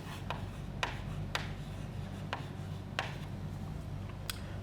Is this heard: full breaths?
no